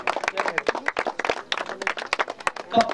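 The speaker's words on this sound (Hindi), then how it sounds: "बड़े जोरदार ताली लगवा सुनील नायक को पाई" At a cricket league post-match presentation, an outdoor crowd applauds the man of the match, a dense burst of brisk close hand clapping that keeps going throughout.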